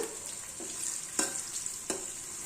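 Onions frying with bay leaf and star anise in a pan, a constant bright sizzle broken by a few sharp spatula scrapes as they are stirred, with no speech.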